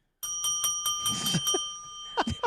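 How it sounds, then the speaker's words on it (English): A bell rings in a rapid series of sharp metallic strikes with a sustained ringing tone, loud and close, followed by a few fainter clattering hits. "that's just actually a bell"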